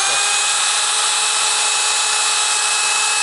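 A power drill bores through a thin metal tube for a smartphone rig, giving a loud, steady high-pitched whine that runs continuously and unbroken, with no talking.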